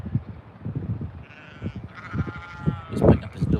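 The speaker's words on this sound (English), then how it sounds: "The sheep are out." Sheep and lambs bleat out in a field several times, rising over a steady low murmur of talk close by.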